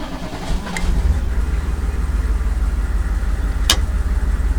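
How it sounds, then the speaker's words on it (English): A hydraulic generator runs on a 1994 Chevrolet bucket truck, giving a steady low engine-like drone that holds level throughout, with a couple of brief sharp clicks near and loud, and no talking. "This truck's also got a hydraulic generator on it, and it functions properly also."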